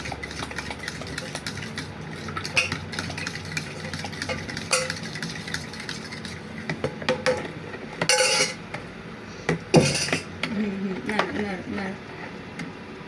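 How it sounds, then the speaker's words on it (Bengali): Pudding being stirred in a pot with a big spoon at home: scattered clinks and scrapes of metal against the pot, with a few louder bursts, under a steady hum and ongoing talk from a mother and daughter. "এখন নাড়ো নাড়ো নাড়ো, বড় চামচ দিয়ে নাড়ো"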